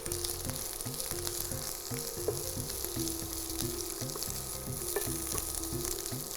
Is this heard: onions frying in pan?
yes